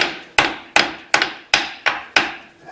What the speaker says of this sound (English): get your best body hammer here